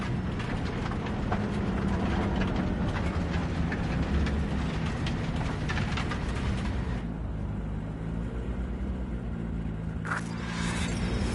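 A video game train rumbles steadily in a Cyberpunk-style scene, a continuous heavy rolling drone with clattering texture that thins out partway through, followed by a brief sharp clank near the end.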